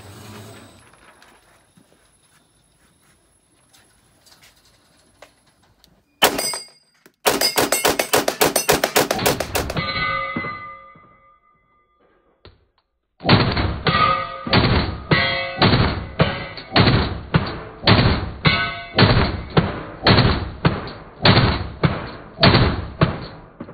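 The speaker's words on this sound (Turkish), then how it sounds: "Seri atışına bakalım." Pistol shots from a Bernardelli Practical VB at a range: a first burst of sharp reports, a pause, then a longer string of rapid, evenly spaced shots, loud and close.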